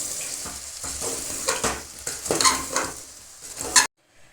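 Spoon stirring fried potatoes, beans and peas in hot oil for pulao, scraping and sizzling in uneven strokes up close, ending with a sharp clank and then quiet.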